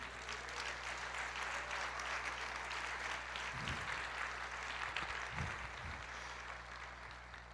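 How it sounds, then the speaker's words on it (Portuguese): Church congregation applauding in worship, a steady, sustained wash of many hands clapping at moderate distance over a low hum, with no voices on top. "Você pode aplaudir o Senhor?"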